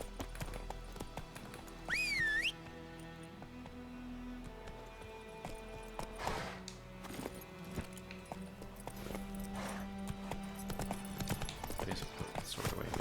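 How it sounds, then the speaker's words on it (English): Horse hooves clip-clop steadily through a Witcher 3: Wild Hunt game scene as a witcher rides on horseback, with a brief whinny early on and a constant game ambience beneath. "Nothing quite as intimidating as watching a witcher come charging at you on horseback"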